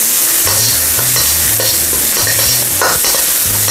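Sliced onion sautéing in hot cooking oil in a pan, a steady loud sizzle broken by repeated scraping stirs of a utensil, close by with no talking.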